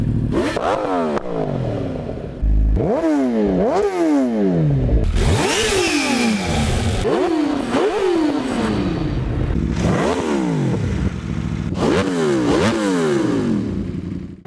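Motorcycle engine in the RiMS Racing video game, revving hard through repeated rising accelerations and gear shifts, loud and close, with no talk over it.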